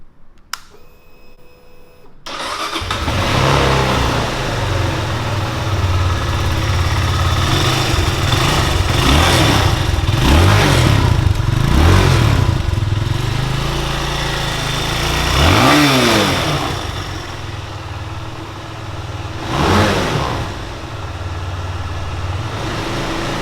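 A Benelli TNT 25 250cc motorcycle engine starts up and runs loud and close, with several throttle blips that rise and fall over a steady idle and no speech.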